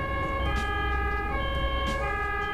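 An ambulance siren wails loud and steady through slow, congested traffic on a narrow road, its repeating tones layered over a constant low rumble of engines, with no voices.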